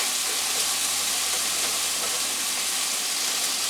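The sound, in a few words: onions sizzling as they are added to the pan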